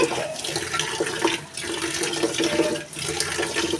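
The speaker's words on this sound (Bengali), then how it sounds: "তো ভাতের চালটা ধুয়ে নিচ্ছি" Rice grains being rinsed in water in a home kitchen, a steady watery sloshing and splashing that runs continuously with two brief dips, close and fairly loud, with no voices.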